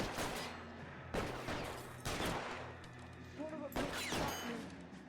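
Gunfire in a video game: several loud, sharp shots arrive in separate bursts about a second apart, with a brief voice heard between them.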